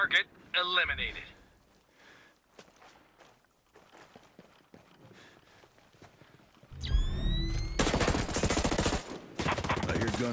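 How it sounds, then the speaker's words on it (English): Bursts of gunfire in the online shooter Call of Duty Black Ops Cold War, starting with a short burst, then quiet footsteps and faint sounds before loud sustained automatic fire erupts near the end, up close. "I hear gunfire."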